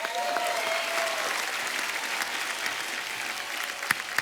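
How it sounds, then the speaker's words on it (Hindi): Loud, steady applause fills a comedy show studio, dense clapping from the audience holding throughout with a couple of sharper claps near the end. "जोरदार तालियां"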